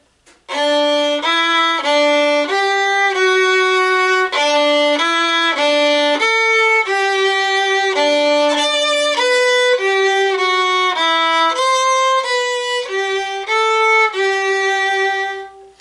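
A viola plays the simple, steady melody of the birthday song in sustained notes, one after another, clear and close with no voices.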